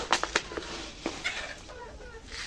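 Chickens cluck in short, bright bursts while being fed powdered feed, with a quick cluster of calls at first and scattered clucks after over a quiet farmyard background.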